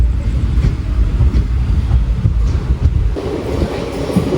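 The Malabar Express pulls into Varkala railway station with a loud, steady rumble of wheels on rails and wind buffeting the microphone. A deeper clatter builds near the end, and no one speaks.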